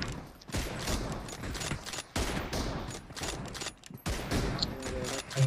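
Gunshots in the mobile battle royale game BGMI, a dense series of loud cracking shots and bursts spread throughout, with mechanical game noises between them.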